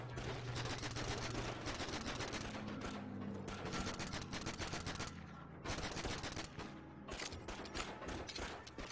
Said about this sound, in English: I like this gun.